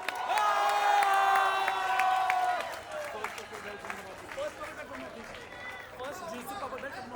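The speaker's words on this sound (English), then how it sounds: "Can we have a big round of applause for Punyajit?" Arena crowd at a jiu-jitsu catchweight pro bout cheering and shouting for a fighter, a loud swell of voices and whistles that fades to lower chatter while an announcer talks over the room.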